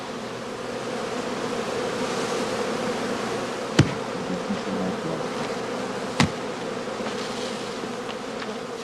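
A dense, steady buzz of many honey bees hums around a straw skep. Two sharp knocks stand out, like the skep being bumped. No speech is heard.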